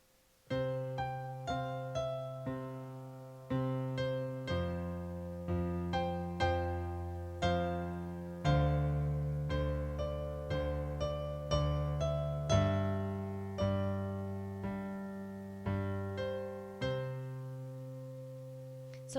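Piano played with a left-hand chord pattern while the right hand moves freely above within a five-finger position, steady repeated attacks decaying over about twenty seconds, close and clear with no talking.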